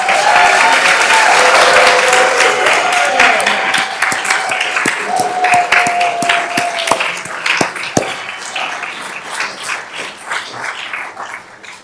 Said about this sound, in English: Please, one more time, I'd like applause for this new city council.